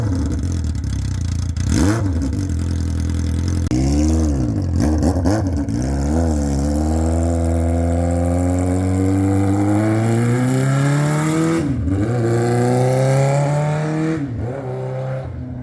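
A Honda Nighthawk motorcycle fitted with a 4-in-1 exhaust revs close by, its engine note blipping and then climbing and falling through several sweeping throttle rises before idling down near the end.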